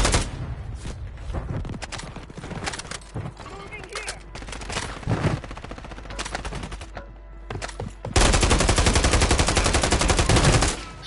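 Gunfire in Call of Duty Warzone cracks out in scattered single shots and short bursts, ending in a loud sustained stream of rapid automatic fire.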